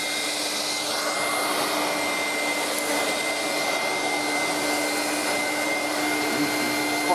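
A Black & Decker AC7000 PowerBrush handheld vacuum cleaner with a rotating roller brush runs close up, giving off a steady, unbroken high-pitched whine and airy rush at a single speed, with no voices.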